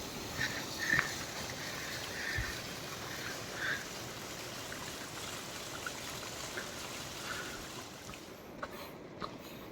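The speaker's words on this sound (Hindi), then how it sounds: "तो ये है छोटू सा झरना." A small waterfall spills down beside a mountain road on the way to Khardung La after light rain, giving a continuous soft trickle and splash of flowing water with a few brief louder splashes.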